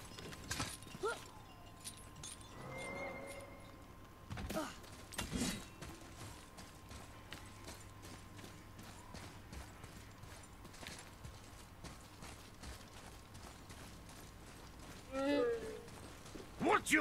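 Horse hooves clip-clopping in God of War, a steady run of hoof beats under ambient game sound, with a few louder thuds and a brief vocal sound near the end.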